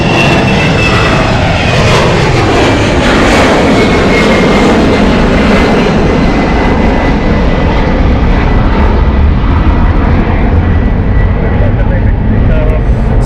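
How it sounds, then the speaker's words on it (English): An Embraer E190 jet airliner at London City Airport roars past loudly and close, a sustained broadband engine rumble that slowly fades in its upper range as it moves away. "You'll notice how loud the E190 is here. This is the Embraer E190."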